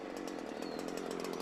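A chainsaw runs steadily at a constant high-revving drone on a log, loud and close, with no other sounds over it.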